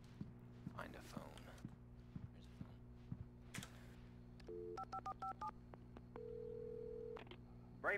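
In the game Alan Wake, a string of short electronic keypad tones from a phone being dialed, followed by a steady ringing tone over a low ambient hum.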